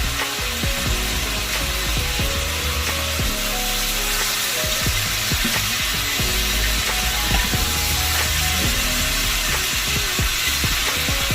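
Chicken pieces browning in a pan for a stew, a loud continuous crackling sizzle with dense spitting pops that holds steady throughout, close and alone with no talking.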